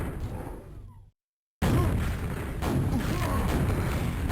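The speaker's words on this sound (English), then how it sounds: "Jumping up with the rocket, making it hard for him to hit me" Rocket explosions boom in a fast Quakeworld deathmatch, a dense roar of blasts and gunfire broken by a half-second silence before loud continuous explosive action resumes.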